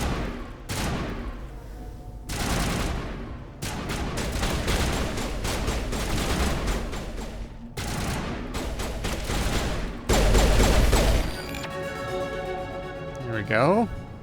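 Enemy gunfire in Mass Effect Legendary Edition, long bursts of rapid shots pinging off a wall, loud and sustained in several waves with short breaks, followed by a rising electronic tone at the end.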